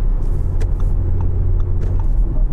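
Inside a 2017 Audi S5 Sportback V6 on the move, a low, steady engine and road rumble with a constant deep drone, well damped and heard alone in the cabin.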